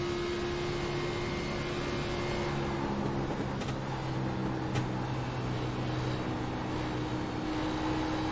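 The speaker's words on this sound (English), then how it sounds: "Hear that little bit of throttle control going on through the corner" A race car engine at Atlanta Motor Speedway in a racing sim, droning steadily through a corner with the throttle feathered, a sustained buzzing whine that wavers slightly in pitch, loud and without speech.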